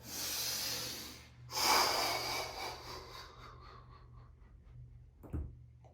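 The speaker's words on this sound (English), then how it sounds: "It's just breathing." Deep breaths during a yoga core session, a long close exhale followed by a stronger breath and a short nasal snort near the end, in a quiet room.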